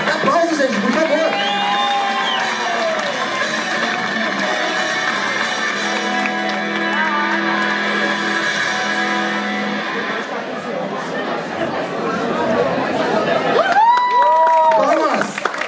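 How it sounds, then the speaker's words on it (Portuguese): An audience at a cosplay parade at a Brazilian anime event applauds and cheers continuously, a dense crowd of clapping with whoops and children's shouts that rises again near the end. "Aplausos, gente, por favor."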